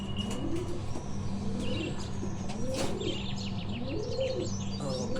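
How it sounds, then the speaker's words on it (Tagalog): Pigeons in a loft coo in soft, repeated low rolling phrases at close range, with chirps and light rustling around them. "Yun yung special bird natin."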